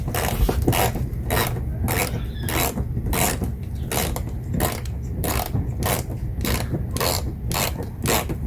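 A screwdriver works screws loose beneath the bumper of a Toyota truck, giving a rapid, regular series of sharp metallic clicks and scrapes close by, with no talking.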